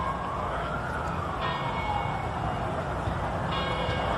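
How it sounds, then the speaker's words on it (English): In Washington, D.C., on Inauguration Day 2001, sirens wail faintly in the distance over a dense, steady outdoor rumble, their pitch slowly rising and falling. "Sirens in the distance as the bells toll"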